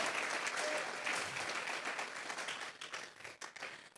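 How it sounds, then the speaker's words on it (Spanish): Congregation in a church breaking into sustained applause, dense and loud at first, then thinning into scattered claps toward the end. "Regalen la ofrenda de palmas al Dios de la gloria"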